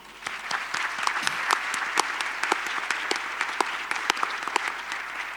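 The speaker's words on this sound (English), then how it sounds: "A round of applause to our hosts." A conference audience applauds the hosts at a summit closing plenary, steady crowd clapping with individual sharp claps standing out, moderately distant and sustained throughout.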